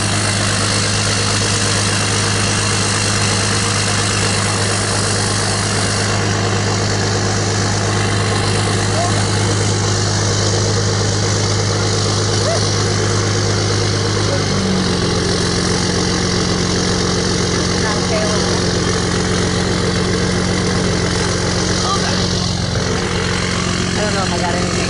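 A diesel engine, either a 7.3 Powerstroke or a Jeep 3.0 turbo diesel, idles loudly after a freezing-cold winter start. Its deep, steady drone shifts to a lower tone about halfway through.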